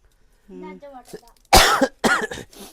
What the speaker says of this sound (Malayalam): നമ്മളെ ചുമ പിടിച്ചു